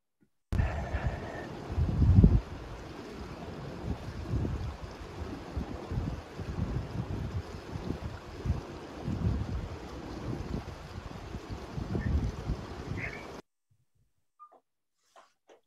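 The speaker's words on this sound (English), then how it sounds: "So you can kind of see and hear and feel those two rivers that Todd spoke about." Two rivers flowing at Riley Ranch just north of Bend give a steady, soft rushing wash with wind buffeting the microphone. The sound cuts off abruptly near the end.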